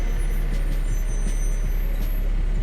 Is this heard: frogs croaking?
no